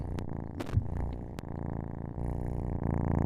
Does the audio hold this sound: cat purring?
yes